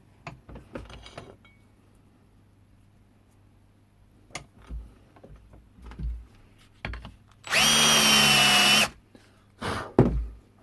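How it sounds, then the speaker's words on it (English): A power drill with a countersink bit cuts into a metal piece, one loud whining burst of about a second amid scattered clunks and handling knocks. "drill with our countersink"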